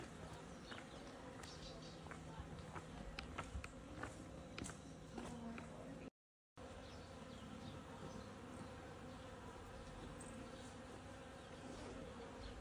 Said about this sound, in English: That's a lot of bees having a drink.